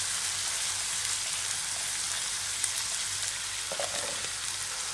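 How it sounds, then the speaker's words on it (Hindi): Chicken mince frying in hot oil in a pan, a steady, even sizzle with a soft hiss throughout, fairly quiet and without speech. "और इसे अच्छी तरह तेल में तल लें ताकि कीमा अपने जूसेस रिलीज करे"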